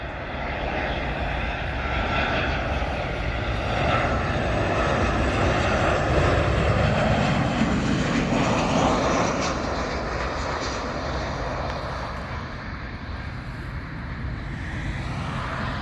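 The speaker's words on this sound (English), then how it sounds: "this is another Boeing 737, except it's a 700 Southwest from Cancun to BWI" A Southwest Boeing 737-700 passenger jet at BWI Airport roars steadily, its engine noise loud and sustained with a slowly shifting pitch as it passes, with no talk.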